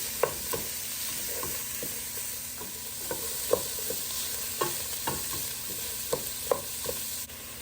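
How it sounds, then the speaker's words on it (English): Italian sausage browning in a soup pot, with a low steady sizzle under a run of sharp scraping knocks from a utensil stirring and breaking up the meat every half second or so. "in my soup pot here, I'm going to brown up a pound of Italian sausage"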